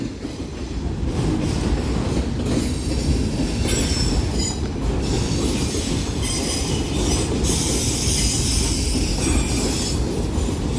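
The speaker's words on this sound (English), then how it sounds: "This train right here is long." A long Union Pacific manifest freight train rolls past close by, a loud continuous rumble of cars with wheel clatter and occasional high squeals, steady throughout with no voices.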